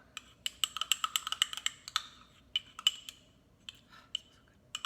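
A spoon stirs a homemade chest rub mixture in a small container, giving a quick, irregular run of sharp clinks and clicks. The clinks come in bursts with short pauses, close by and alone.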